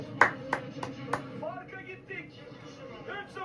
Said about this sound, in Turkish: Ayakta alkışlıyorum.